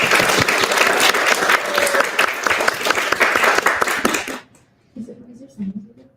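An audience at a book launch for a novel applauds loudly for about four seconds, then the clapping stops abruptly and a couple of quiet voices follow.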